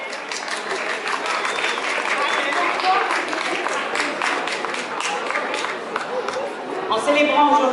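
Crowd applause at a municipal mother-language celebration: loud, dense clapping from a large gathering with chatter mixed in, continuing steadily throughout.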